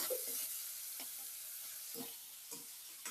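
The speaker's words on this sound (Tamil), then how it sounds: "இந்த பாவக்காவை நல்லா வதக்கி விட்டுக்கோங்க" Bitter gourd sautéing in oil in a pan, a steady broadband sizzle throughout with several soft stirring scrapes, close and moderately quiet, no voices.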